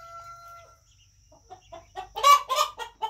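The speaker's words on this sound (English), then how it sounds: "Chickens over here." Chickens cluck close by in a few short, bursty calls that grow louder toward the end after a quiet start.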